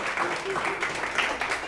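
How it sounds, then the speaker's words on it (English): Audience applause for a coach at an athletes' event, a dense steady patter of clapping mixed with crowd voices and talk throughout. "I think he deserves a round of applause"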